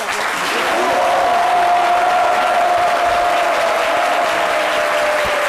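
An audience claps dense, sustained applause for a guest author at a talk event, a loud even wash that swells in the first second and holds steady, with a faint voice underneath.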